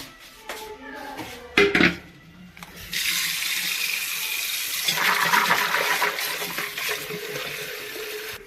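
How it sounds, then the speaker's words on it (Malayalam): Jackfruit seeds washed under running water in a kitchen: a few metallic clinks of a pot, then a steady gush of tap water splashing into a vessel for several seconds. "ചക്കക്കുരു കഴുകണം കേട്ടോ"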